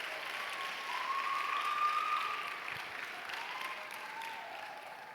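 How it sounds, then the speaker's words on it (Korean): A church congregation at a young adults' Sunday worship service claps in welcome, a soft, even applause that swells slightly and then settles, heard at a distance in a large room. "우리 박수로 환영할까요?"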